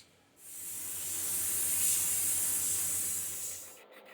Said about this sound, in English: Scraping the excess tape off of our fretboard here